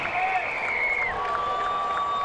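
Booing from a road ballpark crowd aimed at Astros star Jose Altuve after his home run, a broad continuous wash of voices with a few drawn-out tonal jeers rising above it.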